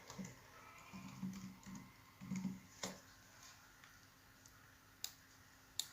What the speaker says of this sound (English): So I'm just going to type my name just for the purpose of this tutorial.